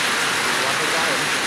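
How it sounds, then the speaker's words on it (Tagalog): Heavy rain pours down in a steady, dense hiss that stays loud and unbroken throughout, close by and with no gaps. "kusog pa yung ulan, kusog"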